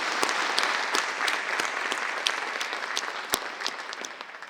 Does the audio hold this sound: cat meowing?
no